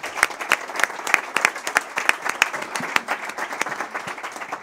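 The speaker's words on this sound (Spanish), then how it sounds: "Otro aplauso." An audience at a university sports programme presentation applauds, dense overlapping hand claps sounding close and lively throughout with no speech.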